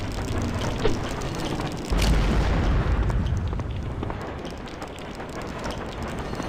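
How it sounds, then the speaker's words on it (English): A bomb bursts in Blood II: The Chosen with a heavy, close boom that swells around the two-second mark and then slowly rolls off beneath steady game noise. "More bombs are good too. In fact, we can use one right here."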